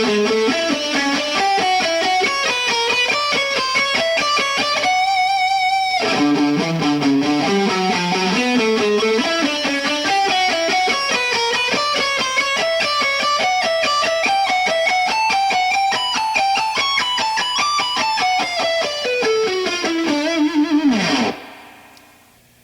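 Electric guitar with distortion and effects plays a lick slowly, a loud, continuous run of picked notes climbing and falling, with a brief pause around the fifth second and a fading final note.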